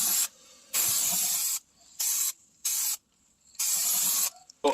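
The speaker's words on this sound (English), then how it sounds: "So now I got my primer filler." A spray can lays primer filler onto a rusty car door jamb in four loud, close hissing bursts of varying length separated by short silences, with faint clicks between them.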